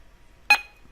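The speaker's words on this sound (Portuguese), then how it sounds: "Essa função ela aciona esse bip aqui" A single short electronic beep from a QYT CB-58 CB radio as its menu setting changes, a brief bright tone standing alone against a near-silent background.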